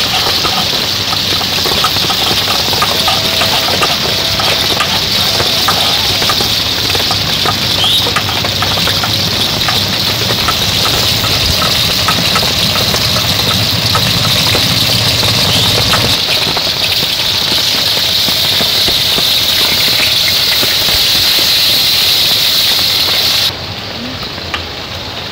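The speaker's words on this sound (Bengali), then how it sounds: "ওদিকে মাছের মাথাগুলো ভাজি হচ্ছে" Hilsa fish heads fry in a pan, giving a loud, dense, steady sizzle that carries on unbroken at close range and then cuts off abruptly near the end.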